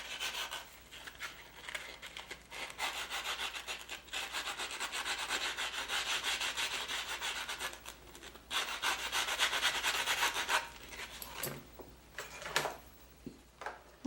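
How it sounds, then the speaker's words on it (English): Sanding block rubbed steadily along the small edges of brass wing earrings, a continuous close scraping with brief pauses and a few sharper knocks near the end. "I'm going to use my sanding block right here. I'm going to sand them."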